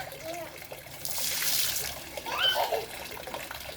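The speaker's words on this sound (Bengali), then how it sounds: "ওই বাটিটা ধো, ওই বাটিটা ধো দেখি।" Water trickles and splashes while a bowl is washed at a tap, the flow close and moderate and rising in a brief burst, with people talking over it.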